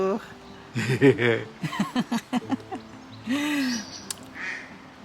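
Repeated nasal quacks from ducks nearby, coming in quick uneven bursts with short pauses, over a faint background hum.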